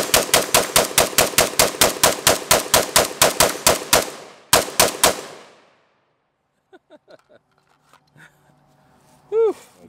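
An AR-pattern rifle fed from 5.56 magazines fires a rapid string of about twenty loud, sharp shots outdoors, then two more after a brief gap, followed by faint clinks and a short voice at the end.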